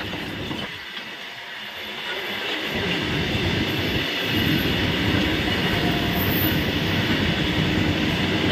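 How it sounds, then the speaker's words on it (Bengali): A long passenger train rolls past nearby on a Bengal railway line, its wagons rumbling and wheels clattering in a steady, building roar that holds loud to the end. "এখন আপের থেকে আরেকটা ট্রেন যাচ্ছে।"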